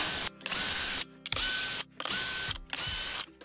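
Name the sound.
unscrewing Phillips screws on a Calor steam generator casing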